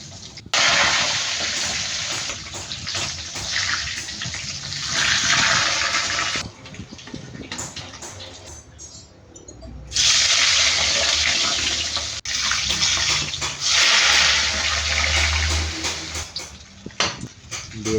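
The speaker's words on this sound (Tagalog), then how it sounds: "Hindi muna natin i-voice over guys para marinig nyo yung tunog ng pag-prito." Food sizzling and crackling in hot oil in a pan, a steady, loud, hissing fry that swells and dips over its length, with no talk.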